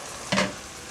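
Salted fish fries in a pan with spinach, giving a short, close sizzle and stirring scrape in one brief burst over a soft, steady frying hiss.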